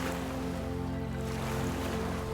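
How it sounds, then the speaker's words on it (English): Water rushes steadily past a sailboat hull at sea while wind hums through the rigging, a continuous close wash with a low droning tone underneath and no voices. "All you hear is the water rushing past the hull and the wind in the rigging."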